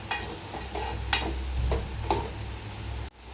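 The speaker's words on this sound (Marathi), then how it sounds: "पुन्हा एकदा मिक्स करून घ्यायचं." Spiced curry with Kolhapuri masala and turmeric is stirred in a pan over a soft frying sizzle, a spoon scraping in a few distinct strokes at close range, with no talking.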